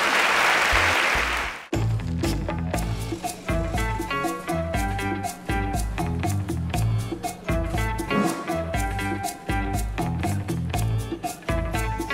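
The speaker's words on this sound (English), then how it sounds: "can we please give a round of applause for Faith?" A loud burst of audience applause for Faith at the Interswitch SPARK Africa STEM Challenge, lasting under two seconds before music takes over.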